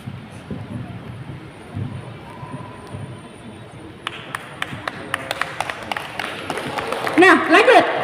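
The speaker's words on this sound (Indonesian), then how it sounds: "Terima kasih atas tepuk tangannya." At a school debate competition, quiet room noise gives way to an audience clapping, starting as scattered sharp claps and building into fuller applause toward the end, with a voice faintly underneath.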